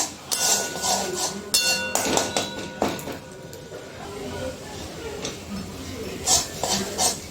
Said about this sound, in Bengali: দিয়ে একটু ভালো করে কষিয়ে নেব